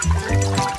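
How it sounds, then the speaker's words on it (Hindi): Jello poured into water for duck-shaped molds, a brief continuous liquid splash and fill, close and fairly loud with no talk. "चलो ये जेलो लेंगे, उसे पानी में डालेंगे।"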